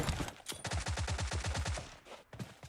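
Rapid automatic M16 rifle fire in an online shooter scrim match, a fast even burst of shots lasting about a second and a half, then a few scattered single shots, moderately close in the mix.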